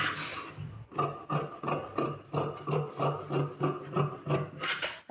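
Scissors cutting blouse fabric, a rhythmic series of about a dozen crisp rasping snips in steady succession, close and fairly loud with no talking.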